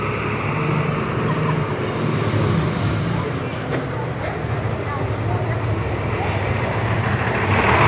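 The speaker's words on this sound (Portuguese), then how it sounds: "Espera aí que vem ônibus." A city bus passes on a street amid steady traffic roar, a loud continuous rumble that swells and holds for several seconds with a brief air-brake hiss, heard close by.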